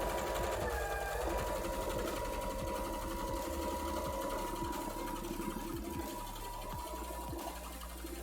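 Sewing machine stitching cosplay fabric for a Pumpkaboo costume, running in a steady continuous whir with rapid rhythmic needle clatter throughout, fairly loud and close with no talking.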